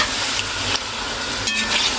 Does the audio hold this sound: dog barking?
no